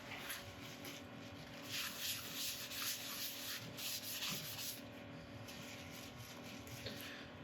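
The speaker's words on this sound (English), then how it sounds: "then we're going to go on with an ultrafine abrasive paste" Ultrafine abrasive paste being rubbed over a turned wood burl, a soft continuous hissing scrub with pulsing strokes over a faint steady hum of the lathe, quiet and close, with no speech.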